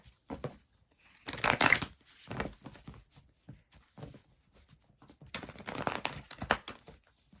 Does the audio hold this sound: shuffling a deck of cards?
yes